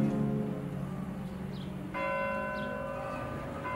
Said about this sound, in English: in Isfahan, church bells still ring out in the Armenian quarter even today